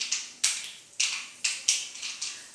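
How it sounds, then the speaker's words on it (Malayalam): Mustard seeds popping in hot oil for Kerala-style beetroot thoran, sharp crackling bursts repeating roughly twice a second, close and fairly loud with quiet gaps between each pop. "കടുക് പൊട്ടുന്നു."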